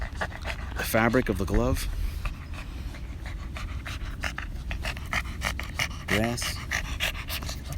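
A Boston Terrier pants rapidly and steadily up close while playing on a grassy soccer field, with a few short whimpering bursts, as a person talks over it.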